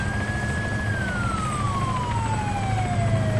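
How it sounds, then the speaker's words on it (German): A police siren in the video game Arma 3 Altis Life wails steadily, its tone sliding slowly downward over a constant rumbling engine drone. "Wer hat die Sirene?"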